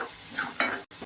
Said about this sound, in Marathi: आणि आता छान असे आपले मसाले आपण परतून घेऊया।